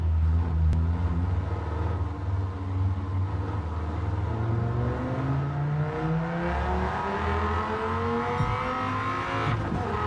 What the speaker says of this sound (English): God damn. I love a V10.